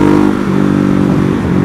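A 2014 Ducati Hypermotard 821 with its 11-degree Testastretta L-twin engine runs loud and close, giving a steady, throbbing rumble that rises slightly as it revs.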